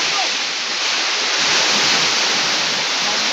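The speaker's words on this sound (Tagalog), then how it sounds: "Bagyo na dito guys." Typhoon wind and heavy rain roar in a loud, steady, unbroken wash of noise, with no clear voices above it.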